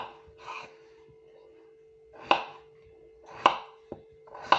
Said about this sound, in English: let's cut these potatoes.